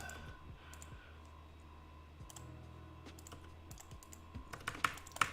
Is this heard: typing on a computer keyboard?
yes